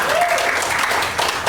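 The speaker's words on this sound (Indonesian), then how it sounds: "Tepuk tangan buat kalian semua" Audience applause at an Indonesian arts community talk event, a dense, steady wash of many hands clapping that fills the short moment at moderate loudness, with no voices over it.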